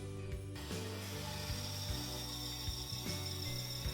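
A bandsaw fitted with a 1/8 inch blade cuts around the antlers of a wooden reindeer, giving a continuous close, fairly quiet hum and rasp with small shifts in pitch as the curves are followed.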